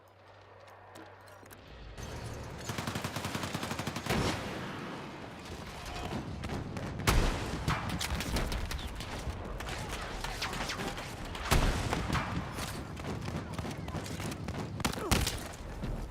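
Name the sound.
sniper gunfire in a video game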